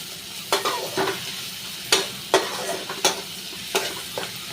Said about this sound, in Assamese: পিঁয়াজ ভাজা হৈ গ'ল তাৰমানে।